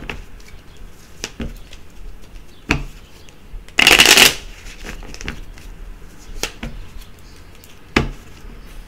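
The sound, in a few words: shuffling Lenormand cards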